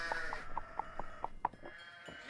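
Sheep bleating in a Nancy Drew adventure game set around Castle Malloy: a rapid series of short, nasal bleats over a low ambient background, then a brief pause before the ambience continues.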